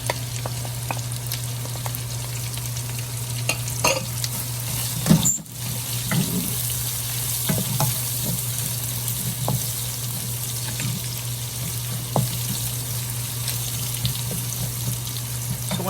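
Garlic fries in a pan for pancit habhab, a steady close sizzle carrying a low constant hum, with a few scattered clicks and one sharp knock midway and no talking.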